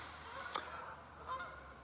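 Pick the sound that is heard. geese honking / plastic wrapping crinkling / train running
geese honking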